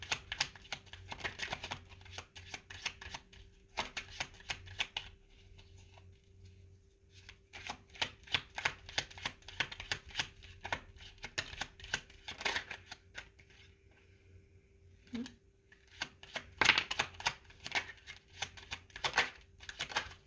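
Tarot cards are shuffled and drawn in repeated crisp bursts of riffling and flicking, close up and fairly quiet, separated by short pauses and with a faint steady hum underneath.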